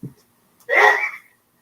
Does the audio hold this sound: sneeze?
yes